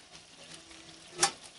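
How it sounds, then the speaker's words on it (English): Soft, steady sizzling of food frying in a pan, with a sharper crackling burst near the end. "Ah, it's sizzling."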